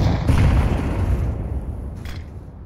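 A grenade detonates in a competitive multiplayer video game match, giving a deep rumbling boom that swells and then slowly fades over a couple of seconds. A faint secondary pop follows near the end.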